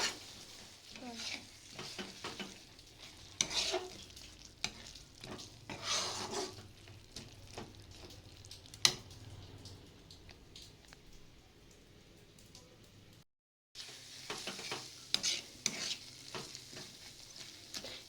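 Spice masala sautéed in oil in a pan for a lote fish curry gives a soft, quiet sizzle with repeated clinks and scrapes of the spatula, a brief dropout near the end, and no speech.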